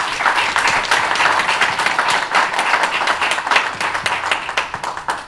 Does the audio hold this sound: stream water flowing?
no